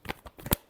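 Tarot cards being shuffled by hand, a few quick soft riffling bursts ending in one sharper snap, close and brief.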